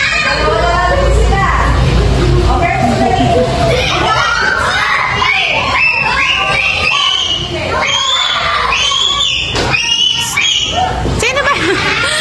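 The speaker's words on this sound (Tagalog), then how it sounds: "Sino ba yung sumisigaw?" Children shout and cheer loudly and continuously during an outdoor playing challenge, a dense crowd of young voices with scattered talk mixed in.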